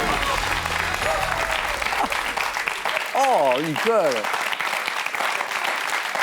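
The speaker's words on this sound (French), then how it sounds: "Et le public de questions pour un champion qui applaudit" The studio audience of the French TV quiz show Questions pour un champion applauds steadily throughout, with a host's animated, sing-song voice calling out over the clapping partway through.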